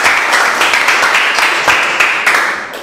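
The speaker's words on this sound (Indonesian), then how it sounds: "Ya, tepuk tangan." Students applauding in a classroom after a quiz answer; loud, close group clapping with distinct sharp hand strikes in a lively, slightly uneven rhythm, continuing for a few seconds before tailing off.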